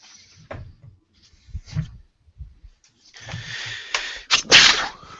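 A person sneezes during a casual Dungeons & Dragons live chat, preceded by a few short breathy noises and a brief inhale, then a sharp, loud burst near the end.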